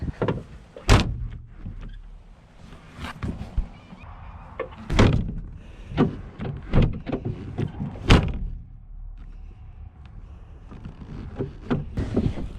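A car door with a snapped internal latch mechanism is worked repeatedly, giving several loud thunks and clunks at irregular intervals with rattling mechanical noise between them.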